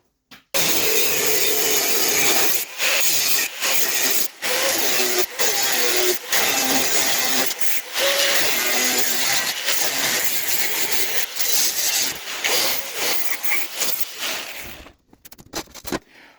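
Steady hand saw rasping through a metal crossmember piece for a 1965 Dodge Coronet, close and loud, cut into regular strokes with brief pauses between them before the sawing stops near the end.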